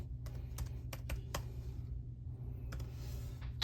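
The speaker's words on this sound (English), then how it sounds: "And then we type in the item number here" Item number being typed on a computer keyboard in maintenance software, a quiet run of separate key clicks with short pauses, close and faint, no talk.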